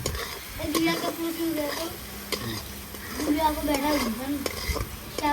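Potatoes and vegetables sizzling in a pan while being stirred, with repeated scraping and clinking of a spoon against the metal; the frying hiss is close and steady, with faint background voices at times.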